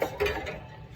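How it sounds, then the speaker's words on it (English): Onions being stirred into tomatoes in a pan for a basic tomato sauce, a short clatter of the utensil against the pan at the start that fades into soft scraping. "I'm gonna mix in all the onions into the tomatoes"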